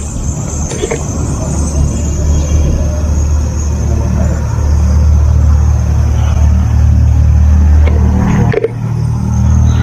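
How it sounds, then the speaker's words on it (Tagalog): A constant low rumble of road traffic heard from an abandoned building in Mindanao, vehicles droning past at a distance, and a brief sharp knock near the end. "may maririnig kayong mga tunog ng sasakyan"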